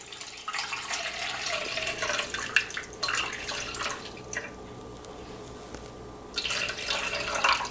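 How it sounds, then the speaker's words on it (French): Warm water poured into a bowl for a buffet dish, a steady splashing trickle with dripping tones that runs through most of the stretch, fairly close and moderately loud, pausing briefly in the middle before resuming. "Donc on va mettre 390 ml d'eau tiède"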